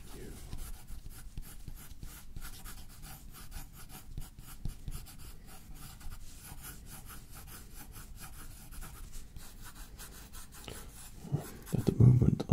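Soft, close scratching of a pencil sketching a portrait on paper, quick repeated strokes in an even rhythm, with brief louder rustling near the end.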